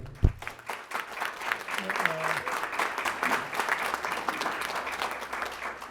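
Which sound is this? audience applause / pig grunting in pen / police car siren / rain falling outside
audience applause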